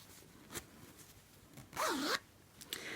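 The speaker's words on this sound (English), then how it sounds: "I'm going to close up the zip, trying not to trap the fabric in it." A concealed zip on sewn fabric is drawn closed: a quick, close, rasping zipper pull lasting under half a second, with a few small handling clicks around it and no speech.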